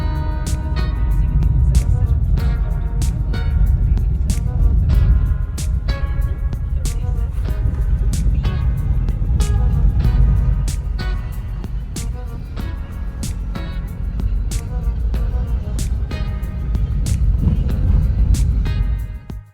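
A car climbs a rough mountain road in Jamaica, its engine rumbling loud and close throughout, with steady low drone and frequent sharp knocks and rattles from the bumpy ride.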